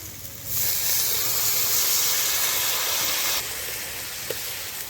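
Water poured into hot fried masala for a fish curry bursts into a loud, hissing sizzle lasting about three seconds, then settles into a quieter simmering hiss.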